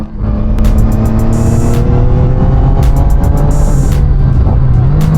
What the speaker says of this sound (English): Today we're riding the Zontes-703 single-cylinder street bike.